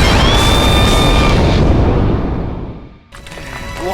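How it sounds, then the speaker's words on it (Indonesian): A suitcase bomb blows up in an animated game-world scene, a loud sustained roaring blast with high ringing tones that fades over about three seconds before a brief silence and new noise. "Begitu Himiko menyelesaikan kalimatnya, koper itu pun seketika meledak."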